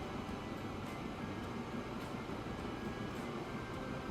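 Old trains run on a line in the video game Transport Fever 2, giving a steady low rumble of rolling wagons, distant and even, with no voices over it.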